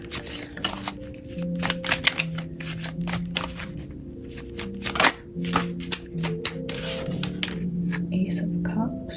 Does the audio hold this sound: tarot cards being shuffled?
yes